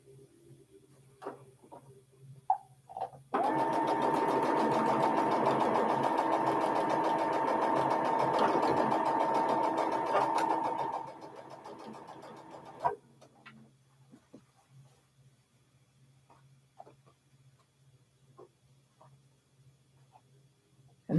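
A home sewing machine stitches black quilt sashing to purple fabric in one steady whirring run of about eight seconds, then slows and stops, with soft handling clicks and rustles before and after.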